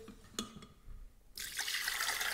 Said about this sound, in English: You mix the flour with the water and the sourdough.